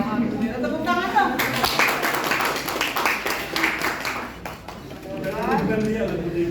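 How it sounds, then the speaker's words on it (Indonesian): A small group of people claps hands together indoors, with a short burst of applause that rises and fades while people talk over it before and after. "tepuk tangan dong"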